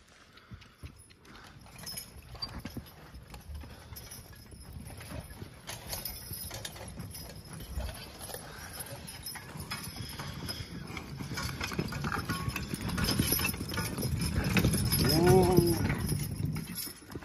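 Steady clip-clop of hooves from a horse walking and pulling during logging, with creaks and rattles of gear, plus some low voices and a louder rumble near the end.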